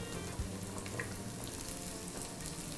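Whole small shallots fry in oil for a Kerala-style beef curry, giving a steady, close sizzle with faint crackles throughout and no talking.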